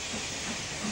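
Steam locomotive, an L12 class 4-4-0, arriving with a train at a station, giving a steady loud hiss of steam with faint low rhythmic pulses underneath, no voices.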